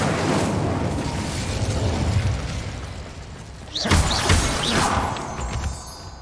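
In Hogwarts Legacy, the Incendio fire spell goes off as a sudden fiery burst partway through, flaring loud and bright above the steady rumble of game ambience before fading out.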